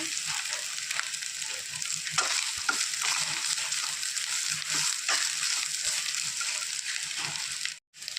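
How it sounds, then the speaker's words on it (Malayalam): Cassava erisseri with coconut fries in a pan, a steady close sizzle broken by repeated stirring scrapes and soft sloshing, with a brief dropout near the end. "ഫ്രൈയായി വരുന്നവരെ ഒന്ന് ഇളക്കി കൊടുക്കാം"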